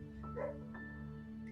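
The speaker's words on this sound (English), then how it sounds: "I don't know if you can hear my dog barking." A pet dog barks at a mail carrier from inside a home, a couple of short yipping barks heard at a distance over a steady background hum.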